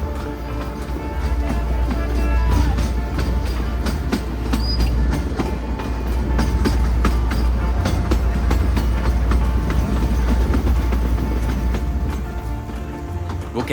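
A 110-year-old narrow-gauge train running slowly from Bilimora to Waghai gives a steady, loud rumble of rolling wagons with rhythmic clickety-clack of wheels over rail joints, heard close from on board throughout.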